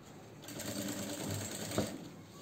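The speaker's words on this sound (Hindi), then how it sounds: "अब हमें स्ट्रेट सिल लेना है कैनवास।" A sewing machine runs steadily at a fast, even pace while stitching canvas into a half collar for a neckline, a continuous close whirring hum with one brief knock partway through.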